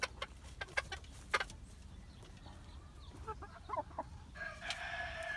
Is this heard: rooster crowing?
yes